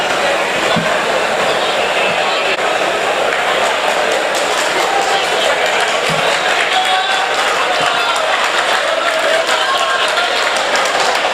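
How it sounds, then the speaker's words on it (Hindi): Loud, sustained applause from an audience at an outdoor mushaira poetry gathering in Garhi Pukhta, Shamli, with dense clapping and crowd noise running continuously and filling the whole stretch. "आप जोरदार तालियों से इस्तकबाल करें सिकंदर हयात गड़बड़।"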